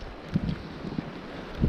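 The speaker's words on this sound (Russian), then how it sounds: "Ураганной силы ветер." Hurricane-force wind roars steadily outdoors as winter weather sets in, a dense, continuous rumble buffeting the microphone with gusty thumps rising and falling throughout.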